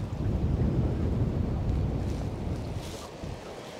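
Steady wind blowing over a river while fly fishing, a continuous low rushing roar buffeting the microphone, loud and unbroken with no talk.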